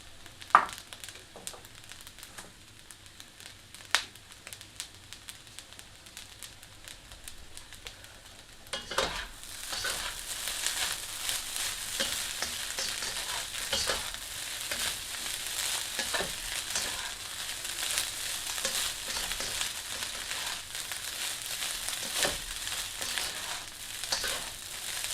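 Rice with jerky stir-frying in a hot wok, starting with a few sharp clanks, then a steady, close sizzle with scraping stirs that runs on for over fifteen seconds.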